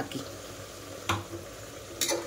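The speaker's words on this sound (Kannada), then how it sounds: "ನೋಡಿ ಟೊಮೆಟೊ ಒಂದು ಅರ್ಧ ಬೆಂದಿದೆ ಅಂತ ಗೊತ್ತಾಗಿದ ತಕ್ಷಣನೇ ಒಂದ್ಸಲಿ ಮಿಕ್ಸ್ ಮಾಡಿ" Half-cooked tomatoes being stirred in a pan for dhaba-style tomato bath, two distinct scraping clinks of a spoon against the pan over a soft continuous sizzle, close and fairly quiet, no speech.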